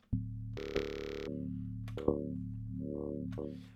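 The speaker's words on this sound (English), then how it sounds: "This is what it sounds like with just the oscillator, using this throat wavetable" A buzzy NI Massive synthesizer oscillator using a throat wavetable, with a nasal, throaty timbre, plays a few sustained notes with abrupt pitch changes, dry and alone.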